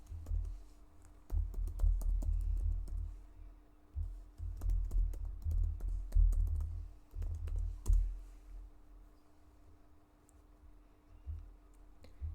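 Steady typing on a computer keyboard, with close, quiet clicking keystrokes in bursts separated by short pauses.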